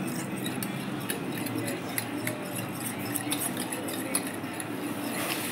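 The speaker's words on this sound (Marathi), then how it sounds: "इथे मी एका बाउलमध्ये दही घेते आहे. आपल्याला हे छान फेटून घ्यायचं आहे." Yogurt being whisked in a bowl for dahi vada, a steady light scraping and clinking of utensil against the bowl running throughout, close and fairly quiet with no voices.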